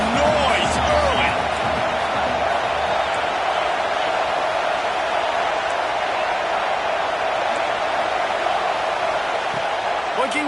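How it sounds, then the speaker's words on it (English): Stadium crowd roar in a college football video game, a steady loud wash of cheering noise held throughout with scattered sharper thuds, a commentator's voice over it. "This crowd bringing the energy and noise early."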